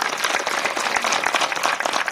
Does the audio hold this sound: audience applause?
yes